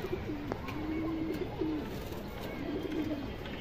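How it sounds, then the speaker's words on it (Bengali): Large female pigeons at a pigeon seller's stall coo in several soft, low, drawn-out phrases against a steady background hum. "মাদি কবুতর বড় সাইজের"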